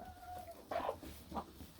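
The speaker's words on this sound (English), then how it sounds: "those are happy chickens who are not laying their eggs" Laying hens in a backyard coop give soft, quiet clucks, two or three brief calls close by against a faint hum of background noise.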